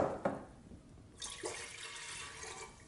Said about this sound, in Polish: wlejemy ocet